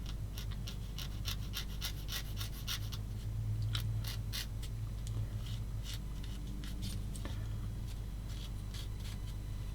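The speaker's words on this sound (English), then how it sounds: "So I'm not going to cut it, I'm going to sand it" A stem on a plastic 1/35 Daswerk Schwimmwagen Trippel SG6/38 model part is sanded by hand in quick, soft scratchy strokes, faint and close over a low steady room hum.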